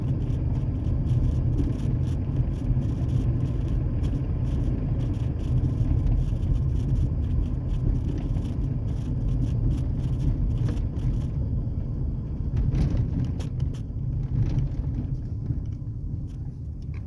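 A muffler-deleted 2003 Ford Ranger with a 4.0L engine on a drive, its exhaust making a constant deep rumble with wind buffeting the microphone, steady and loud throughout.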